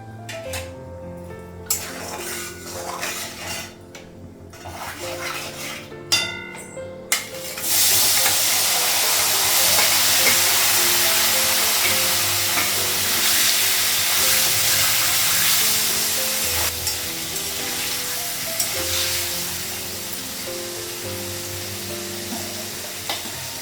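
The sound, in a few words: paneer frying in a pan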